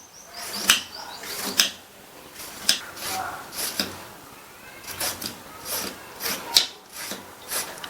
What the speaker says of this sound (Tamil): இந்த முள்ளங்கியை இந்த சைடும் கட் பண்ணிட்டு மேல் தோலை லைட்டா சீவிக்கலாம்.